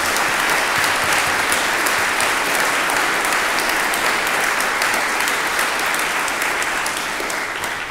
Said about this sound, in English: I would like us to give those three teachers a big round of applause